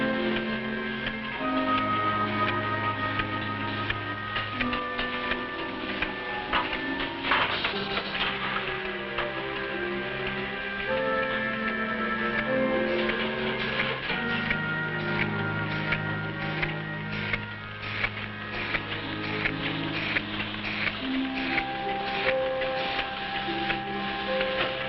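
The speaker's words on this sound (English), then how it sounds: "The encapsulating process takes place here." A 1950s capsule encapsulating machine fills Nutrilite food-supplement capsules, running with steady mechanical ticking and rapid clicking under music for the whole stretch, with no talk.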